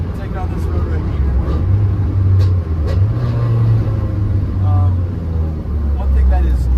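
A loud 1997 JDM Honda Civic with a B20B engine swap and tuned ECU drives down a road, its engine droning and rising and falling in pitch from inside the cabin, with a voice talking over it.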